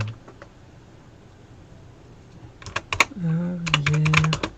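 Quick bursts of typing on a computer keyboard, sparse clicks at first and then rapid clusters of close, crisp keystrokes, with a person speaking over the later bursts.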